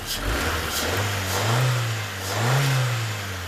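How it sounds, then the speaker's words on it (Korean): A just-repaired car engine, its vibration fixed, revs up and down twice in smooth, strong surges over a steady idle rumble, close by with no voices. "엔진 소리도 경쾌하잖아요"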